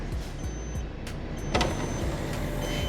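A vending machine's delivery door motors open or shut automatically, a low mechanical whir with faint electronic beeps, close and fairly quiet, rising slightly midway.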